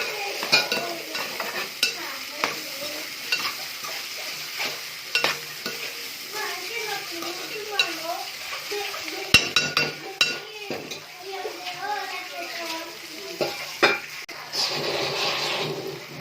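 Raw prawns fry with bitter gourd in a pan for a curry, giving a continuous close sizzle with repeated stirring scrapes and occasional utensil clinks, while a voice talks over it.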